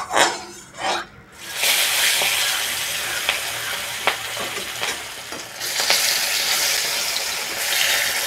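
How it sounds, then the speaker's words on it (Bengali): Rupchanda (pomfret) fish pieces are slid into hot mustard oil and burst into a loud, steady sizzle that swells after a couple of soft splashes and continues with crackles and spatters nearby. "এবার আমি একটা একটা করে মাছের পিস তেলের মধ্যে ছাড়বো।"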